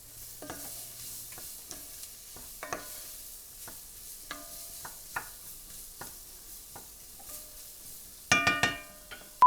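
Ingredients sweat in oil in a pan for coconut curry mussels, a faint low sizzle broken by repeated scraping and stirring clicks, with a louder burst of stirring near the end.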